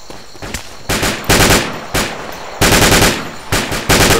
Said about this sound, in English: All fire on full auto at the same time